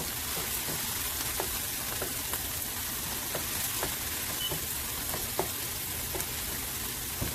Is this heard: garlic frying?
yes